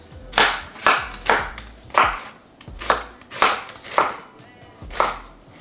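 A knife chops food on a cutting board for French onion chicken, striking about nine times in a steady, close rhythm with no talking.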